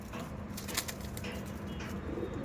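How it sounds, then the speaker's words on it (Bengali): Faint, low cooing and a flutter of wings come from Andhra Madrasi flying pigeons kept at a home loft, all set in a steady hiss of background noise. "এই যে এই আমার বাড়িতে ওড়ানো পায়রা, আমার পার্সোনাল ট্যাগ আছে।"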